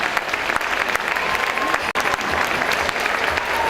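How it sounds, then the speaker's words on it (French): An audience breaks into sustained, dense applause for Marie-Laure after a wedding ring is revealed, loud and even clapping filling the whole span with only a brief dip midway. "on applaudit s'il vous plaît Marie-Laure"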